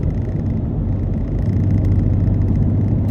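A 2017 BMW M3 Competition Package with its twin-turbo S55 engine drives at night, giving a steady, loud low rumble of engine and road noise that swells slightly partway through, with no speech.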